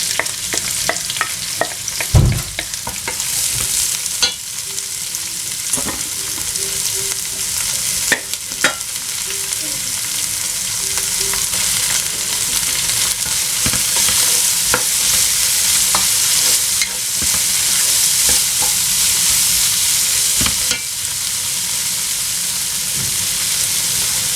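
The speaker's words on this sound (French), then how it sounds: "dans la même marmite je vais revenir mes poivrons, le mélange de poivrons jaune et vert" A mix of yellow and green peppers sautéing in oil in a cooking pot for chakchouka: a continuous close sizzle and hiss with occasional clinks and stirring knocks, growing steadier and louder toward the end.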